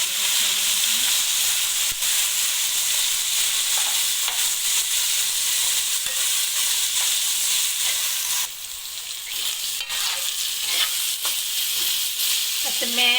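Minced meat frying loudly in a pan with chopped ginger garlic paste, a steady bright sizzle throughout with occasional stirring scrapes, close and continuous without speech.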